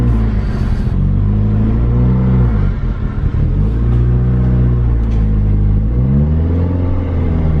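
A Mk4 Volkswagen GTI pulls away in second gear, its engine droning loud from inside the cabin, rising and falling as revs climb and dip through repeated pulls, no talk.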